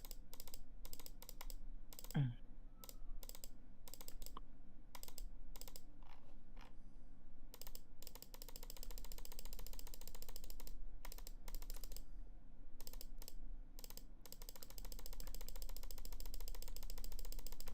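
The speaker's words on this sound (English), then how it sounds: "I'm just fucking speed clicking everything back into the main board" Rapid mouse clicking while rebuilding a deck in Cockatrice, long bursts of quick, crisp clicks in fast irregular runs broken by short pauses, close and fairly quiet with no talking.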